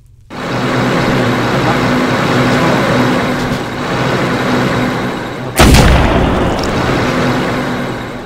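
A tank cannon firing in Minecraft, a single heavy booming blast rising out of a loud, constant engine rumble, followed by a fading roar as the rumble carries on.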